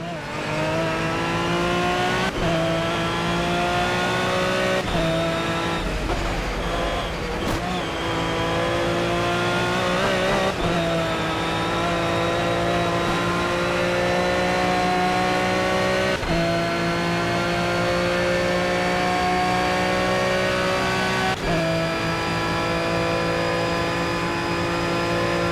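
Race car engines on the Nordschleife in Project Cars scream loudly and continuously, repeatedly climbing in pitch through the gears with brief drops at each shift, mixed with faint tire noise.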